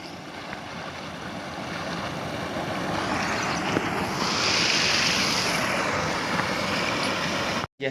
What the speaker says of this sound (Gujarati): આ નેર ચાલુ છે પાણી કેવું આવે